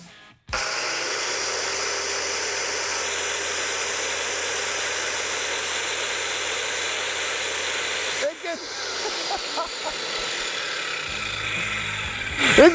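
A Sears Craftsman Screamer power tool starts up and runs at a loud, steady roaring whine for about eight seconds, then its sound shifts and fades into uneven clatter and lower noise.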